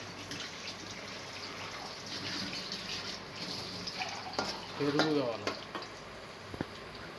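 Onions soften and fry in a pan for chicken gravy curry, a moderate steady sizzle with scraping stirring strokes and a few clinks, with a faint voice briefly in the background.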